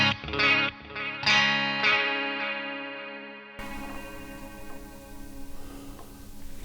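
Guitar notes run through a Pigtronix Echolution 3 delay pedal with its modulation speed raised, the repeats wavering in pitch as each strum decays, then a quieter stretch of lingering wobbling echoes.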